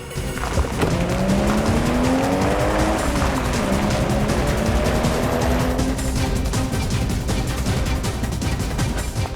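A car's tires squeal in a long, loud skid lasting several seconds, the pitch sliding and wavering over steady engine and road noise, with no clear impact heard.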